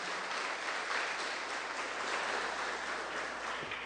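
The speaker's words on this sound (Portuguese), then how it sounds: "Dê uma forte salva de palmas para o Senhor Jesus." A church congregation claps together during a Sunday service, a steady wash of applause at moderate distance that holds evenly for several seconds with no voices over it.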